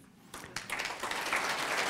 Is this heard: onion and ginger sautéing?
no